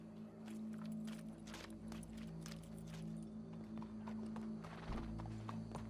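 Horse hooves clip-clop steadily in Red Dead Redemption 2, a fairly close, even walking rhythm over a low ambient hum, with a soft whinny-like tone.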